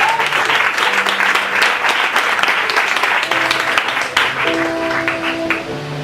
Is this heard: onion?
no